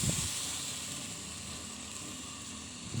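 A steady hiss and sizzle as chicken barbecue marinade is poured into a hot pan, with faint clatter at the start and end.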